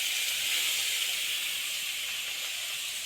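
Grated carrots fry in oil and ghee for carrot halwa, giving a steady, close sizzling hiss that holds evenly throughout with no talking.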